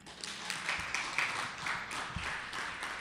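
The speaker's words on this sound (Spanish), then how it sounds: "Otro aplauso." An audience at a book presentation gives another round of applause, a steady wash of clapping with scattered sharper claps, held at an even level for a few seconds.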